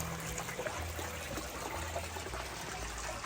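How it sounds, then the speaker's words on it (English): A small brook trickles right beside a tree house along the Appalachian Trail in the Smokies, giving a steady, close, continuous wash of running water with no voices over it. "Got this pleasant little brook running right by."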